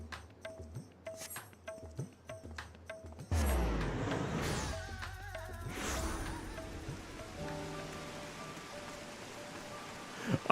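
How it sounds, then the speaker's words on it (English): Rain falls in a video game area. Light ticking and soft musical tones give way to a steady, moderately loud wash of rainfall with a faint chime, and nobody speaks. "I swear, it's always raining when I come to this area"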